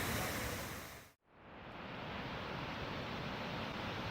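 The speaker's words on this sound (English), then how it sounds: "And there's the top of the waterfall." A waterfall at Victoria Falls on the NC500 route in the Scottish Highlands roars as a loud, steady broadband rush, briefly cutting out before swelling back to full strength.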